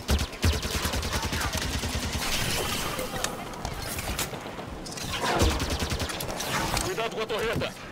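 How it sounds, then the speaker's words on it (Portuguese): Gunfire in Halo 5 co-op campaign play, with a turret firing in rapid bursts of shots near and loud across the whole stretch, heavy booms mixed in and voices talking over the shooting. "Cuidado com a torreta!"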